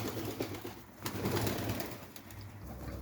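A white Mardin pigeon coos softly outdoors in a few low, murmuring phrases over steady background hum and faint ambient noise.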